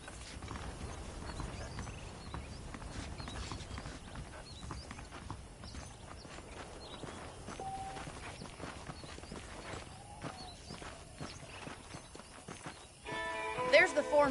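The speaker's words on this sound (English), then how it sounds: "The horses are saddled up over here." Horse hooves clip-clop in Red Dead Redemption, a steady walking rhythm of hoofbeats with creaking tack, moderately close, under a man's speech, with a brief louder clatter at the end.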